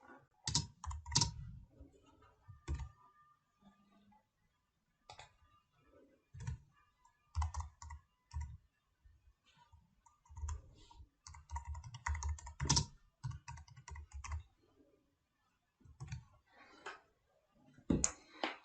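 Search key terms being typed on a computer keyboard, quiet clusters of key clicks in uneven bursts with pauses between them, close and alone.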